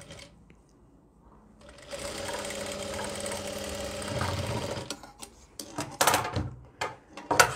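A sewing machine stitches frock fabric in a steady whirring run of about three seconds, followed by short bursts, clicks and handling noises up close.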